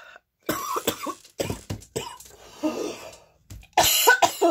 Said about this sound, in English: I'm boiling from coughing